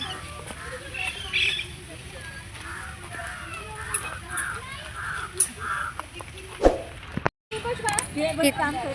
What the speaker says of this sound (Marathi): पक्ष्यांचं छान असं आवाज